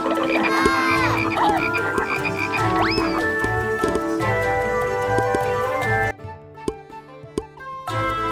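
Loud, dense chorus of croaking frogs, many overlapping calls, continuing without pause before abruptly thinning to scattered croaks near the end.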